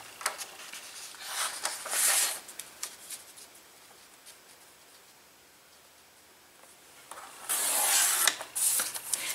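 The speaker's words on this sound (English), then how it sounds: "So to cut this up, I would just take my little trimmer here." Small paper trimmer slicing a printed advent calendar sheet, two bursts of crisp scraping cuts separated by a quiet stretch, close and fairly loud.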